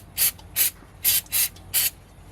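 Brake cleaner sprays onto oily residue on the side of a 2013 Ford Focus sedan engine in five short, sharp hissing bursts at a steady rhythm, close and loud with quiet gaps between them.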